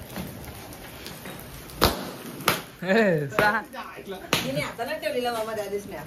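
Diwali firecrackers burst in a few sharp, isolated pops during Lakshmi Puja celebrations, heard under people talking close by.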